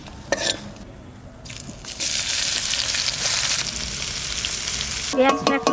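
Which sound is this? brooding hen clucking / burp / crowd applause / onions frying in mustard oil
onions frying in mustard oil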